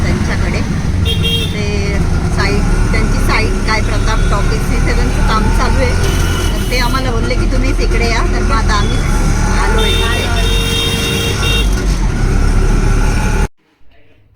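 An auto rickshaw ride from inside the cabin: a loud, continuous engine drone with traffic noise and horns tooting nearby and voices talking over it, then an abrupt cut at the end.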